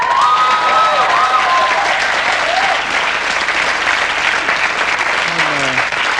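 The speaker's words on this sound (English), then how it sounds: "That's your applause there," A television studio audience gives loud, sustained applause for the pianist Russell on a comedy show, a dense, even wash of clapping that never lets up.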